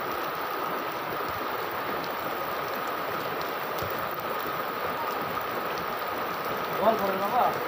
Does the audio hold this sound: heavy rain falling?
yes